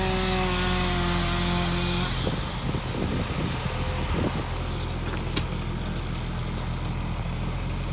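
A chainsaw cutting a tree whines at high pitch and then bogs down into a rough, grinding cut, running continuously at moderate distance.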